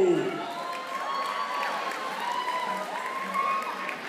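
An audience claps and cheers at a senior fashion show, with scattered shouts and voices over steady applause.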